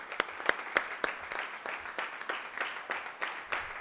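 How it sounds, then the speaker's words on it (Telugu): Steady audience applause at a Burrakatha performance, many hands clapping together in a continuous rattling wash with a few sharper claps standing out, moderately loud. "దయచేసి క్లాప్స్ కంటిన్యూ చేయండి సార్"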